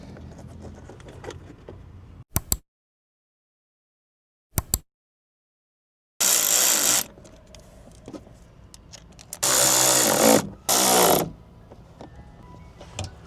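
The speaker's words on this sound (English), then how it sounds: "I'm gonna put the screws in and we'll be good to go." Screws being driven in while fitting speakers in a BMW 135i E82, heard as a few short clicks followed by bursts of loud power-driver whirring, separated by silent gaps.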